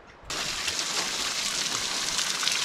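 A waterfall at Hastings beach roars in as a steady, dense rush of falling water, loud and close after a brief quieter start, with no talking.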